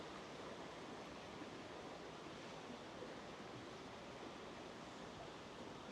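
An unfrozen brook runs through a park in North Wales in November, a constant, even rush of water with a broadband hiss that stays steady throughout, with no talking.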